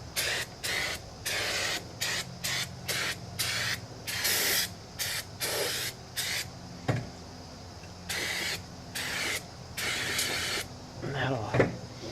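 Light brake cleaner hisses from an aerosol can onto a car's wheel cylinder in a series of short and longer bursts, close and fairly loud, with a few clanks in between.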